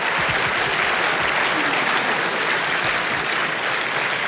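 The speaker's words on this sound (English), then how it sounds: "Let's give them a big round of applause." Steady, dense applause from a large crowd at a Minnesota Supreme Court session, continuous and fairly loud throughout with no talking over it.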